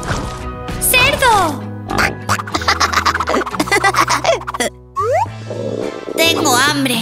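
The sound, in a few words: pig oinking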